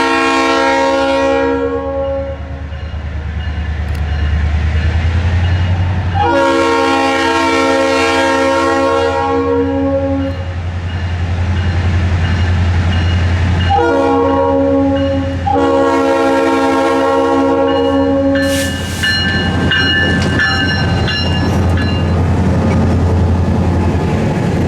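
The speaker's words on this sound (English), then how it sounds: "as the train came back" A CSS train on the Kingsbury Branch passes close by, sounding a loud multi-tone horn in several long blasts over a deep rumbling engine and rail noise.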